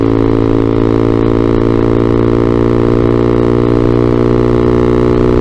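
A Vader ZS190 Honda Grom clone motorcycle is ridden, its single small engine droning loudly and steadily with a buzzing tone throughout, close to the rider.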